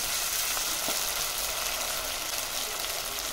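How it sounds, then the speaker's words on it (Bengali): Ground spice paste hits hot oil after fried onions, giving a dense, even hiss of sizzling throughout with a faint stir or two, close and steady, no voices. "দিয়ে দিচ্ছি বেটে রাখা মশলা,"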